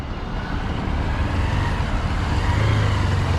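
Steady road traffic rumble in a Dubai traffic jam, with a continuous low engine drone, vehicles idling and moving nearby, no voices.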